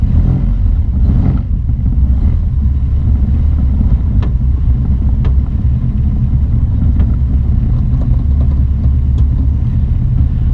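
A 1965 Volkswagen Beetle, previously rolled over, driving around the block, with steady low engine and road rumble plus wind buffeting the microphone throughout, loud and continuous with a few faint clicks.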